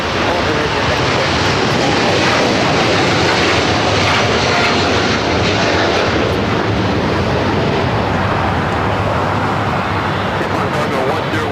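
A jet airliner roars loudly and continuously at Los Angeles LAX airport, a broad, rumbling engine noise with a low drone that stays strong for the whole stretch, heard up close and alone.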